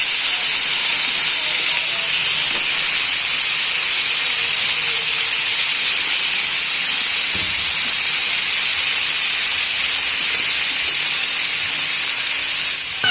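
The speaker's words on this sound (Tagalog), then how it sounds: "prinito ko muna or ginisa ko muna yung kalabasa" Squash sautéing in a pan, giving a steady loud hiss of steam and sizzle that runs unbroken throughout, with faint clinks underneath.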